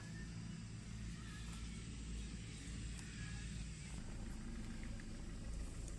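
A 2017 Maruti Suzuki Ciaz Alpha diesel idles steadily after a push-button start, giving a continuous low rumble with faint mechanical ticks, recorded close by at low level with no talk.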